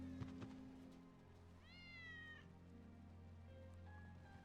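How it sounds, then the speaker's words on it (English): Wedge's cat in Final Fantasy VII Remake meows once in a rising, drawn-out cry over a steady low game ambience with light rain-like texture, no one talking. "Hear that? Kitty. That's Wedge's cat."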